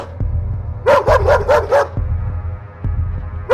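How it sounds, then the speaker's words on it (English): A black dog barks loudly in a quick burst of about five sharp, close barks, with some thumps and low background noise around them. "it started barking loudly"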